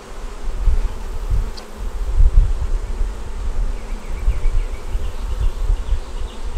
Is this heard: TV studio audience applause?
no